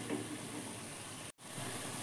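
Bottle gourd greens sautéing in a pan give off a soft, steady sizzle with a faint, even hiss throughout and one brief break near the end.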